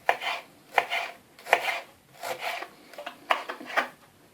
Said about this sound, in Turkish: İndi isə kişnişlərimizi götürək, doğrayaq.